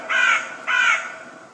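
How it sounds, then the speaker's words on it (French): Two loud, close crow caws, harsh and nasal, each about a quarter second long with a short gap between them, then fading into quiet. "Encore ce corbeau?"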